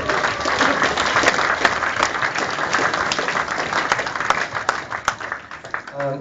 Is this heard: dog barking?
no